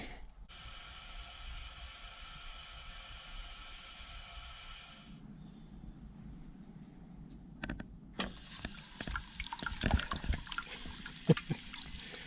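A drinking fountain and a dog water fountain at a trail park by Moores Creek National Battlefield give a steady, close hiss of running water for several seconds. The water then cuts off, leaving quieter handling clatter and faint background sounds.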